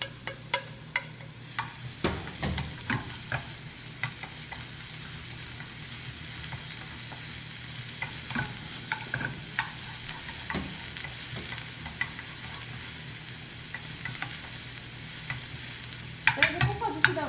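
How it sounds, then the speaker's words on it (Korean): Garlic, onion and cheongyang chili stir-fry in a pan for pad thai, a soft continuous sizzle broken by scraping and tapping stirring strokes, with no talk. "저기에 향이 난 채소인 마늘, 양파, 청양고추 볶아주세요"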